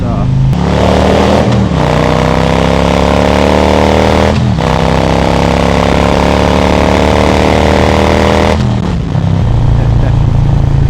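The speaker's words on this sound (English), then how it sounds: "we got Johnny Boy back there with that beast, the M1000 XR." Several motorcycles on a group ride, one of them an M1000 XR, hold a loud steady engine drone close by, with pitch shifts as riders shift gears and rev, and someone talking over it.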